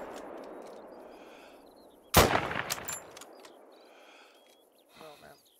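Shotgun fired while hunting outdoors, heard as one sharp loud blast followed by a short ringing tail, with faint voices before and after.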